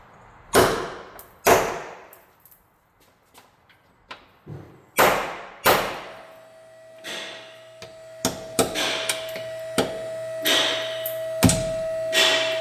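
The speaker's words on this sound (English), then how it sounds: "stick a socket on each one of these and just give it a whack with a hammer" Sharp metallic whacks ring out one at a time, a hammer striking a socket on rusted bolts of a rotted crossmember, with irregular pauses between loud and lighter blows.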